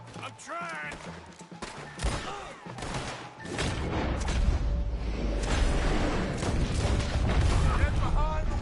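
Gunfire rattles through a Red Dead Redemption wagon shootout: dense, overlapping bursts that start scattered and swell into a loud, continuous barrage, with shouting voices over the top.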